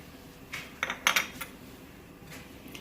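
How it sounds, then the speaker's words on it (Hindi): Poppy seeds stirred into a keema mixture, a few soft clinks and scrapes of a spoon against a bowl in a quiet kitchen, spread over a few seconds. "इसे मिक्स कर दूंगी मैं इसमें, क्योंकि ये कीमे में जाएगा।"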